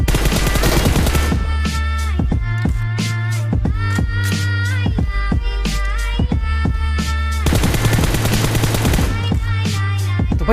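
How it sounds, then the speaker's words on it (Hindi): Loud, rapid bursts of automatic gunfire in a shooting video game, with dense volleys of shots following one another almost continuously, some pausing briefly before the next barrage. "पहले मैं बॉट फायर करूंगा फिर इन्हें कूटूंगा"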